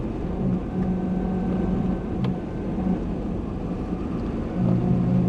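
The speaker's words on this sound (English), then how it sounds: "Sound of that V8 engine." Chevrolet Corvette C2 V8 engine running in snow, giving a steady, loud, deep rumble throughout with a few slight swells and no voices.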